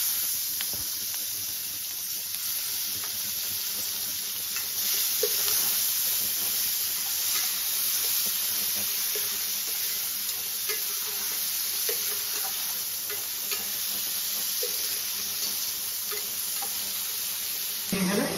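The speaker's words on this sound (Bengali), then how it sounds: "কালো জিরাটা একটু ভাজা ভাজা হয়ে গেছে, আমি তার মধ্যে পেঁয়াজ দিচ্ছি" Chopped onions dropped into hot oil with toasted black cumin sizzle and hiss continuously at close range, a steady bright frying sound with occasional stirring scrapes and no speech.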